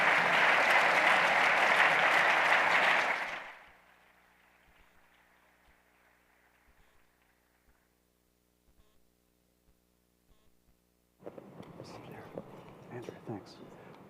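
An audience at the Canadian Club of Toronto gives loud applause welcoming a speaker and a panel of experts. The clapping fades to a near-silent hall, and people then start speaking.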